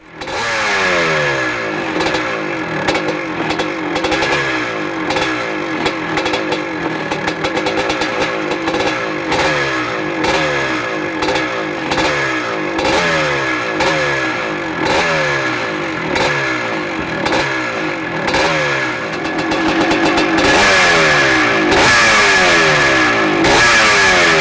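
A 1983 250cc classic dirt bike engine, a Michael Spider, revs hard at close range in the paddock at Thornhill, with a loud, rasping two-stroke note rising and falling through repeated throttle blips.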